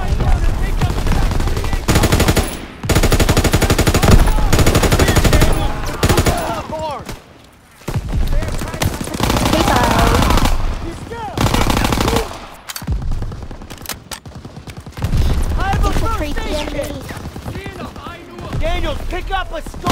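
Bursts of rapid machine-gun fire and rifle shots in the World War II shooter Call of Duty: WW2, loud and dense, alternating with short pauses, with in-game voices shouting commands between the volleys.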